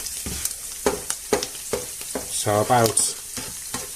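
Omelette ingredients with cheese and garlic stirred in a sizzling pan, repeated scraping strokes over a steady fry close by, with a brief spoken phrase in the middle.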